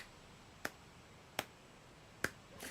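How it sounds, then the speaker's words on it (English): One person gives a slow clap while praising new Valheim building parts: three sharp, isolated hand claps spaced well apart over a quiet background. "Slow clap."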